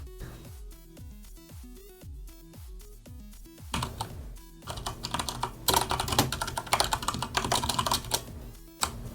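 Typing on a computer keyboard starts as a few spaced, distinct keystrokes, then becomes fast, dense clattering that stays close and fairly loud, with no one talking.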